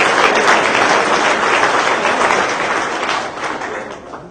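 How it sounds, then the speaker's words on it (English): Conference audience at a rebreather diving industry awards party giving warm, dense applause for a winner, loud and sustained throughout, slowly tapering off toward the end. "So let's have a clap for Bruce."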